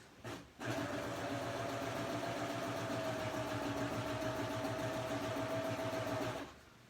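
A serger stitching across quilt binding, running in one continuous steady whirring hum with a rapid rhythmic mechanical pulse for about six seconds after a brief start-up, close and even in level.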